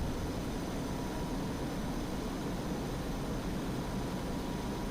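An F-5E jet taking off and climbing from the runway in the DCS flight simulator video game, heard as a steady, dense, hissing engine roar that stays even and unbroken throughout, with no talk.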